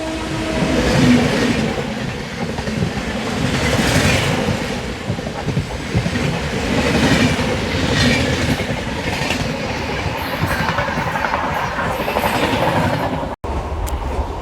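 The Bhubaneswar–Secunderabad Visakha Express on a double electric line gives a steady, close rumble with rhythmic wheel clatter, holding loud throughout before a brief dropout near the end.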